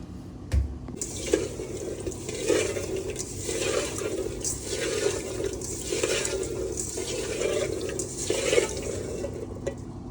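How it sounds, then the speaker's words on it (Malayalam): Water splashes and sloshes steadily in a bowl of salted water, with a running-tap quality and rhythmic swishing as catfish roe is rinsed by hand. "ഏട്ടമുട്ട നല്ല കുറച്ച വെള്ളത്തിൽ നല്ല ഉപ്പിട്ടിട്ട് ജസ്റ്റ് ഒന്ന് കിഴകി വെക്കുക"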